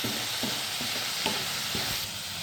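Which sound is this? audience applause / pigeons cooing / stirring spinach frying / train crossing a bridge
stirring spinach frying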